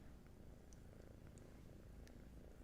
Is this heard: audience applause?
no